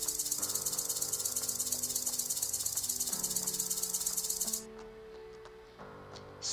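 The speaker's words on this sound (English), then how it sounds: "Snake." A snake's rattling hiss in a children's animal sounds game, a loud dense buzzing rattle lasting about four and a half seconds before cutting off, with a soft musical tone beneath.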